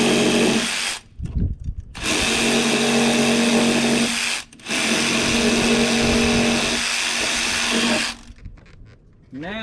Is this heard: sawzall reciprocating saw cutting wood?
yes